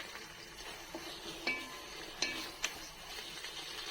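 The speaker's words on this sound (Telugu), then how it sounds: "అల్లం పేస్ట్ చేసి ఇది పచ్చివాసన పోయే వరకు వేయించుకుందాం" Ginger paste stir-fries in a pan for chicken biryani, giving a faint, steady sizzle. A few sharp clinks of a spoon against the pan break through now and then.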